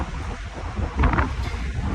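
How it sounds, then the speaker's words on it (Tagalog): Strong wind buffeting the microphone outdoors in Macau, a steady broadband roar with a louder gust surging about midway through the short stretch, no voices. "Sobrang hangin!"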